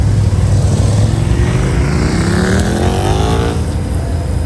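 Honda CBR 1000RR Fireblade superbike fitted with an Akrapovic exhaust at a large street bikers meetup in Tampa, its engine note a loud, steady drone that climbs in pitch as it revs, backed by dense traffic rumble throughout.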